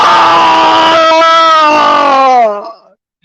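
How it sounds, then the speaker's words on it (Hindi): A man gives a long, loud, piercing scream that holds at a high pitch, then wavers and bends downward before fading out, heard alone in a dramatised play reading. "आसमान को फाड़ देने वाली एक चीख निकली"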